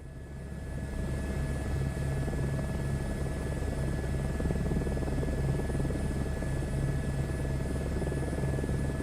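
Steady, loud rotor thump and engine whine of a helicopter in Microsoft Flight Simulator, continuous throughout after a short rise at the start, with no talk.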